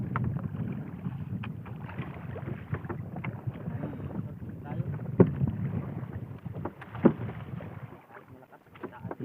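A wooden fishing boat rocks and creaks on strong sea waves in the late afternoon, with a steady wash of water and wind buffeting the microphone and occasional sharp knocks of the hull over about nine seconds.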